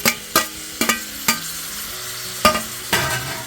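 Clams and shellfish sizzle in frying masala while a spoon stirs them, knocking against the pan in irregular sharp clinks over a continuous close crackle. No voices are heard.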